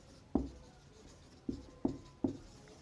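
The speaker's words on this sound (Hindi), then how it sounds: "सो हम यहाँ पे अब लिखेंगे बी" Pen or marker strokes on a board while working a physics problem on a charged conducting sphere: four short, distinct scratching taps spaced irregularly, close and fairly quiet against a low room hiss.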